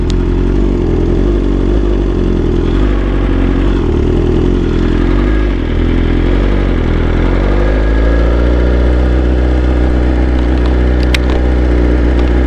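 A motorcycle engine runs steadily while riding through traffic, a loud, continuous low rumble that settles into an even drone with faint clatter, no talking.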